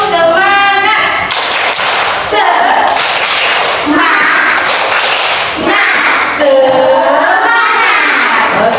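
Children in an Indonesian classroom perform a rhythmic spirit clap, sharp claps and slaps in a quick patterned burst with excited young voices and shouting mixed in, loud and close throughout.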